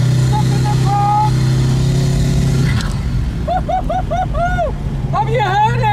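A Koenigsegg Regera hypercar's engine drones loud and steady on a drive in front of a large crowd, then shifts and eases off partway through. Someone talks excitedly over it for much of the time.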